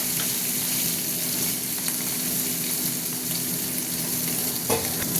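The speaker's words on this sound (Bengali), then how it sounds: "আর একটা লেজা আছে, ওটা ভাজবো।" A pomfret fish tail fries in oil with a steady, close crackling sizzle throughout, plus a brief faint clink near the end, with no talking.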